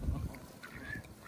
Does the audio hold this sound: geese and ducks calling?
yes